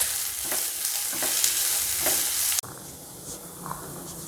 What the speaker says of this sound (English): saute till the onions become